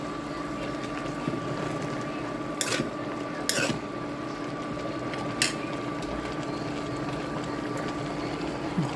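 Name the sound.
stirring pakbet in a cooking pot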